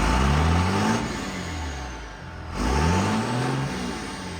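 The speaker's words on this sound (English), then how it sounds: "but it's got a 24-valve Cummins under the hood." A custom truck built on a semi-truck chassis with a 6-ton rear end, a 24-valve Cummins engine and an Allison six-speed automatic revs up close by, rising twice in pitch with a brief dip between the pulls.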